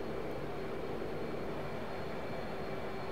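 F/A-18C Hornet jet engine at full throttle during a climb in the DCS flight simulator, a steady broad roar with a faint tonal whine, constant and moderately quiet with no voices.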